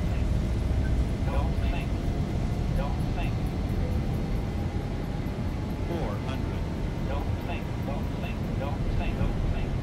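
Boeing 737-800 takeoff roll in X-Plane 11, a steady loud roar of engine and rolling noise throughout with a faint rising tone, under radio-style talk.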